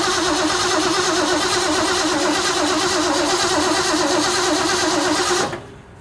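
A 1966 Ford Mustang engine cranking and catching, then running with a rough, loud, steady mid-pitched drone close by for several seconds before cutting off abruptly near the end.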